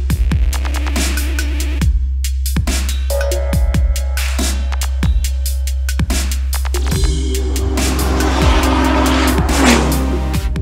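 A Bentley Continental GT Supersports accelerates hard on a race track, its engine roaring loud and steady with rising revs and gear changes, tires faintly squealing.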